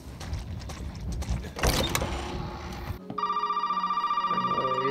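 A telephone rings inside the Resident Evil 7 video game, a steady repeating electronic ring that starts partway through and pulses regularly and loudly after a stretch of dark ambient game noise.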